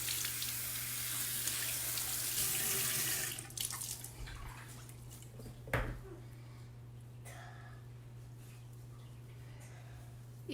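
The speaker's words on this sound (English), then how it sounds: "If you hear extra sounds, that's my daughter taking a bath right here with me." Running water and sloshing from a child's bath sound faintly nearby, first as a steady stream and then as scattered splashes and drips over a low, constant hum.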